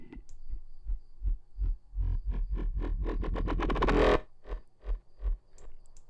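A growling synth bass made in Reason 7.1 and run through a synchronous distortion effect pulses in rhythmic bursts, swells into a dense, gritty sustained roar, then drops back to short throbbing hits, loud with no voice over it.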